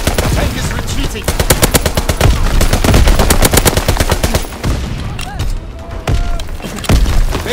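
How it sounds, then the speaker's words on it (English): Sustained automatic gunfire in a Call of Duty: WWII battle, aimed at infantry near a tank, with rapid bursts rattling loudly and almost continuously before breaking into scattered shots and thuds. "They fire on the infantry by the tank."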